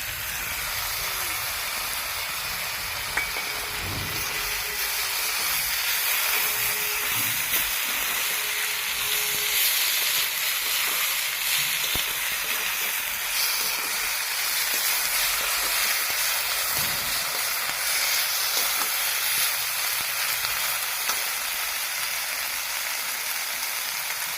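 Spices fry in a pan for a vegetable curry with a broad, steady hiss and sizzle that runs unbroken and fairly loud throughout, with no talk.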